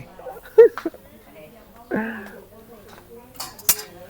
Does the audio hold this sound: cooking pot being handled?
yes